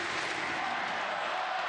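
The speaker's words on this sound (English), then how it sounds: "Al Lang Stadium is chanting" A packed stadium crowd at Al Lang Stadium roars and chants during a Tampa Bay Rowdies playoff soccer match, a loud, dense, continuous wash of voices filling the whole moment.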